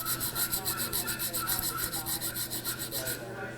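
Hardware cloth scraped steadily back and forth across the surface of a friction turkey call, a fast rhythmic raspy rubbing heard up close, with no voices.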